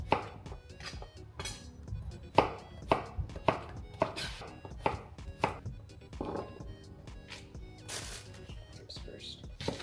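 A knife chops zucchini into quarters on a cutting board, a quick series of sharp, close taps with short pauses between them, loud against a quiet kitchen.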